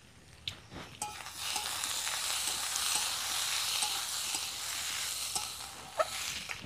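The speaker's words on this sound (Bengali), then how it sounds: "লবণটা দিয়ে আবারও ভালোভাবে কষিয়ে নেব আলুটাকে।" Potatoes with onion paste, chili and turmeric sauté in a pan, a steady soft sizzle and hiss with occasional light clicks of a spatula, close and quiet.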